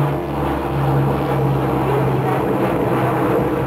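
An RC model Piper Cherokee low-wing airplane drones overhead on a low pass, its small engine giving a loud, steady buzzing hum with a sustained tone that holds throughout.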